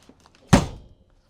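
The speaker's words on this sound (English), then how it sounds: "Let me shut this door real quick." A door on a travel trailer's oven swings shut with one solid thunk, loud and close, followed by a short decaying rattle, with no talking.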